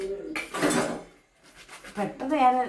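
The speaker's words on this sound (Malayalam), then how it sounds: "പാത്രം കുറച്ചുകൂടി ഉണ്ട്. അതുകൂടി അത് തേച്ച് കഴുകട്ടെ." Dishes and spoons are scrubbed and washed by hand at close range, giving quiet clinks and clatter in two short bursts with a pause between, and a voice is heard alongside.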